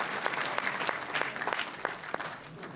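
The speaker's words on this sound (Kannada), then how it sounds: "ಒಂದು ದೊಡ್ಡ ಚಪ್ಪಾಳೆ" A big round of applause from a stage-show audience, dense steady clapping for a few seconds with no voices.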